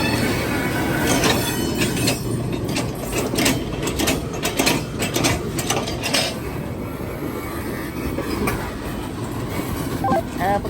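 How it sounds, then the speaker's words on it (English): Railroad cars roll down a yard track during switching, a steady, loud rumble of wheels on rail with scattered metallic squeals and clanks throughout and no talk. "All right, TJ, we headed down track 4."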